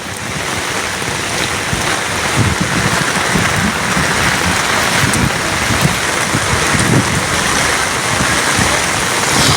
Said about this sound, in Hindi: लगातार भारी बारिश की वजह से नदी नाले उफान पर हैं।